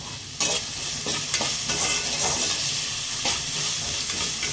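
Pea kurma ingredients sautéing in a hot pan with salt, a continuous close sizzle broken by repeated scraping and stirring strokes, with no voices.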